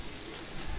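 Steady rain falling at a hill station on a wet day, a soft continuous hiss of drops heard for a brief moment with no voices.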